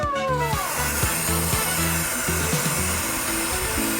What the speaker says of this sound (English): This is a fog machine.